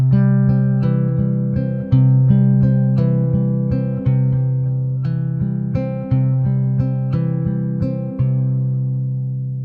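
Fingerpicked acoustic-style guitar in a 6/8 pattern using four fingers, steady rolling arpeggios with clear plucked notes, chord changes roughly every two seconds, played alone and close.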